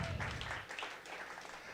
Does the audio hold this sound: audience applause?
yes